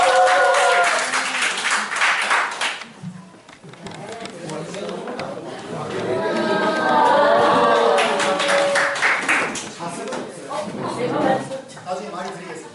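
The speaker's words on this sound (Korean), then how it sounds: "박수 부탁드립니다" An audience at a small lecture in a café gallery bursts into clapping and laughter, the applause swelling and fading in waves while a speaker's voice and crowd chatter run over it.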